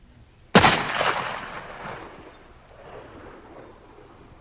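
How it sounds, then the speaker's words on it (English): A single loud gunshot cracks sharply after a moment of quiet, then rolls away in a long, fading boom and rumble like distant thunder. "he pulled the trigger of his gun"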